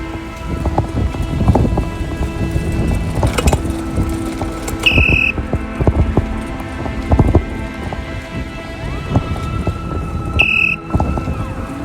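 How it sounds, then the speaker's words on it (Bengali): Steady heavy rain pattering on surfaces during a bicycle ride, with low thunder rumbles beneath it and a few brief high tones, loud and continuous, no voices. "বৃষ্টি চলে আসছে"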